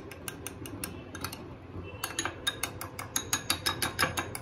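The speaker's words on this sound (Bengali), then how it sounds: "এবার ভালো করে ডিমগুলোকে ফাটিয়ে নেব।" Eggs with a pinch of salt beaten briskly in a bowl for a street-style egg roll, giving a steady run of close, sharp clicks and taps that turn quicker and louder toward the end.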